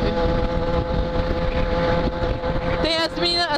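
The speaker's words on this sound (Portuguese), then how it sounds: "Olha o vento, parece que a moto vai sair." Heavy wind buffets the microphone on a moving motorcycle, a loud continuous roar mixed with engine drone that runs the whole time, while someone talks over it near the end.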